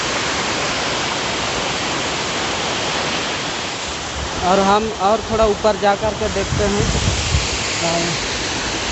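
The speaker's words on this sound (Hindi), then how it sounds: "वहाँ से पानी गिरता है।" Khandadhar waterfall in Odisha roars as a steady, dense rush of falling water, with someone speaking over it midway before the roar carries on alone.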